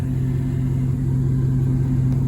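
Lifted Chevrolet Tahoe truck engine idling with a deep, steady low rumble and a constant tonal hum, close and loud without interruption, no voices.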